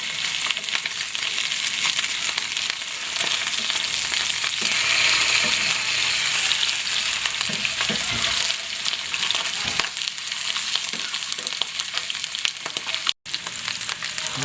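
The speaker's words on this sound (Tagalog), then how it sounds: "piniprito natin yan" Milkfish (bangus) fries in hot oil, giving a loud, steady sizzle and crackle that runs unbroken for the whole stretch, with no voices over it.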